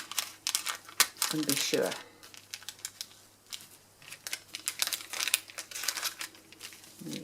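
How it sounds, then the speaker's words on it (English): Scissors snip through paper for an art piece, with crinkling paper handling and a series of close, quick cuts under a person's quiet speech. "I'm just going to go snippety snip."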